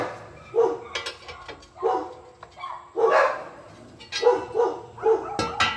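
Dogs bark repeatedly in short bursts at moderate distance, with a few higher yips mixed in, coming in irregular clusters.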